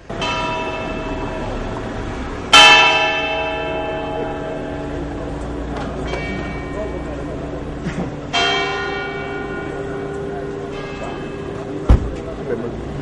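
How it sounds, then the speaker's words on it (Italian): Cathedral church bells toll slowly in a historic town centre, three or four strong strikes with long ringing decay, over a steady background hum of outdoor crowd or traffic. "i mesti rintocchi delle campane della chiesa cattedrale sono risuonati nel centro storico della città"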